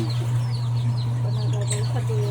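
Chickens clucking and chirping softly over a loud, steady low hum, several birds close by.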